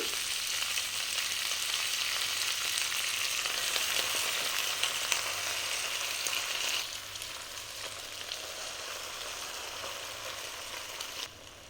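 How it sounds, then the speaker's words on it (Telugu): Washed gongura (sorrel) leaves fry in hot oil with a loud, steady sizzle that drops to a softer crackle partway through and then cuts off abruptly. "ఆయిల్ వేసుకున్న తర్వాత మనం ముందుగా శుభ్రంగా కడిగి పెట్టుకున్న గోంగూర ఉంది కదా ఆ గోంగూరను ఇందులోకి వేసుకోవాలి"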